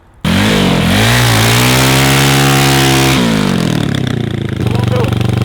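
A 140cc four-speed ATV engine kicks in abruptly and revs hard and loud in a burnout attempt, its buzzing pitch climbing and wavering before dropping back to a rough high idle, close by, with voices mixed in.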